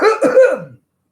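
A single sharp cough, close and fairly loud, breaking into a short rough burst before stopping abruptly, followed by silence.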